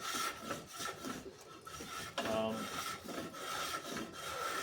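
A small yard-sale block plane shapes a wooden backup handle for a Japanese splitter, making repeated soft rasping, scraping strokes at a steady rhythm, close and fairly quiet, with no talk.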